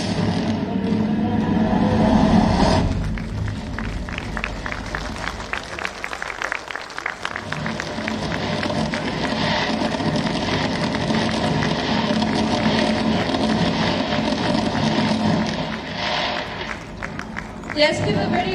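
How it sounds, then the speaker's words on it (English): Audience applause at the 55th Annual General Meeting of SBI bank in a hall: sustained clapping from a crowd, steady and fairly loud throughout, with a voice briefly audible at the start. "Let's give a very warm applause"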